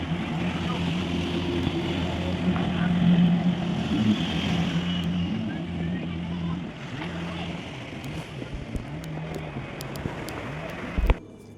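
A motorboat engine drones steadily and loudly throughout off Phu Quoc, Vietnam, with a low rumbling hum and water wash, ending in a brief thump.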